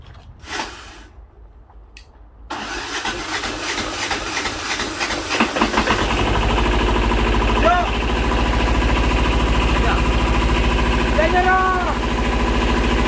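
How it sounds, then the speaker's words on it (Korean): A small engine on a mini hydraulic log splitter starts after a quiet pause and settles into a loud, steady running drone with faint squeaks over it. "시동을 한번 걸어보겠습니다."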